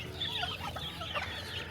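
Chickens cluck softly and repeatedly at moderate distance on a backyard farm, with no one talking.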